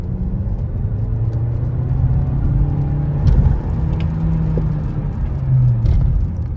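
A 2021 Volkswagen Golf 8 R-Line pulls away in eco mode, its engine a low, smooth rumble heard from inside the cabin, rising gently in pitch as it accelerates, with faint road noise and a few light knocks.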